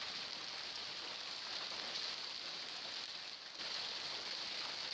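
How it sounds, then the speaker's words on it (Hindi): Steady rain with hail falling across Noida, a continuous broadband hiss that stays loud and even throughout with a brief dip near the end and no voices. "नोएडा में बारिश के साथ कई जगह पर ओले भी पड़े हैं।"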